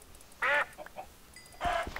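Two short bursts of duck quacking from the video game Minecraft, separated by a quiet gap, fairly close and clear with no talk over them.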